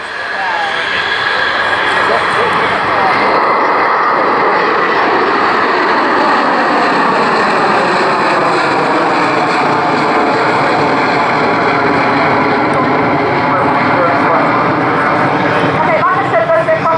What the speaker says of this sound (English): The Boeing 757, also from number 40 Squadron